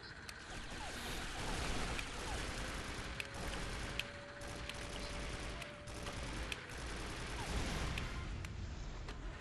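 Steady gunfire in 007 Nightfire as Bond shoots from a vehicle driven by Zoe during a chase, rattling in continuous bursts with sharp isolated cracks over a constant rumbling backdrop, with no voices.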